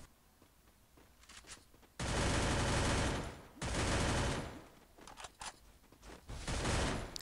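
Automatic gunfire in the Free Fire battle royale game, loud rapid bursts of shooting that last over a second each, separated by brief gaps, with quieter scattered shots and game sounds around them.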